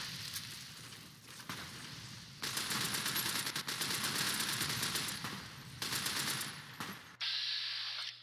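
Gunfire from the video game Fallout New Vegas: loud, sustained bursts of rapid automatic shots with short gaps, ending in a final burst after a brief lull.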